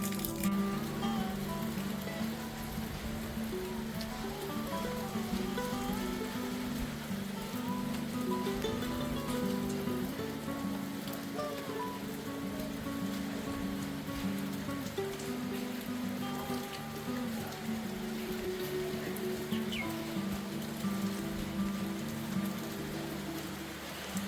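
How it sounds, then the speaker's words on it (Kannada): Heavy rain falls at a hilltop temple, a constant dense patter and hiss under a persistent low tonal hum, going on for a long stretch without speech. "ಫುಲ್ಲು ಮಳೆ"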